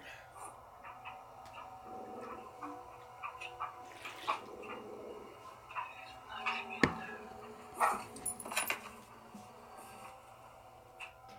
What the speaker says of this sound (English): his little dog TJ is always growling at the corner of his bedroom